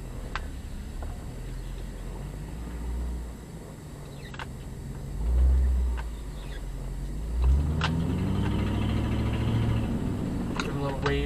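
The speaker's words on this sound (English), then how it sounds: "Pull over so this car behind me can pass." A car follows close behind the filming vehicle on a narrow residential street in Gerritsen Beach, Brooklyn, its low engine rumble steady under nearby talk, swelling briefly as it draws nearer.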